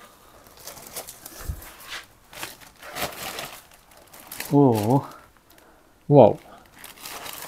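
A plastic shopping bag is rummaged through while picking through street rubbish in Germany, giving repeated crinkling and rustling bursts close by, with a voice speaking briefly over it.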